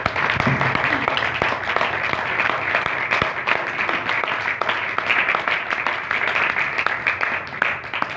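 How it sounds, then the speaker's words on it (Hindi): A congregation at a Hindi-language Christian sermon gives a long, steady round of hearty clapping, a dense wash of many hands with sharp individual claps standing out, continuing without pause throughout. "मेरे यीशु के लिए एक बार जोरदार ताली"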